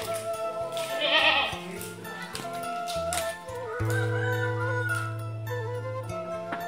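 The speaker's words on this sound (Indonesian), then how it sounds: "Kita lihat kambing-kambingnya." Several goats bleating loudly and close in a barn converted from an empty warehouse, overlapping calls with long drawn-out cries and a rooster crowing in the mix.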